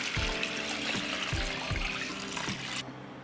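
Water pours steadily into a pot holding glass jars with a cloth laid on the bottom, a continuous close splashing stream with faint clinks, easing off near the end.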